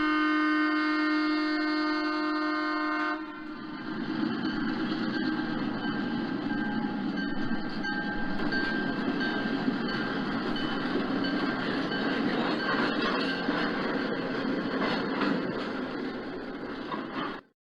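A model coal train, URN-1A, pulls into West Mill on a model railway layout: a steady horn tone sounds alone at first, then gives way to a continuous rolling rumble with faint clicks that holds until it cuts off abruptly.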